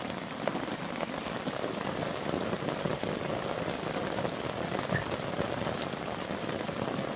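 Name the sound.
heavy rain falling on tarp over hammock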